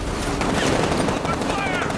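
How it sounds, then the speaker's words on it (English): Dense, continuous gunfire from the Batman Arkham Knight video game, a loud, sustained fusillade of rapid shots filling the whole stretch, with a voice mixed into the din. "Open fire! Engaging target!"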